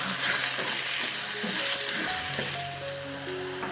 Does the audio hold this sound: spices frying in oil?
yes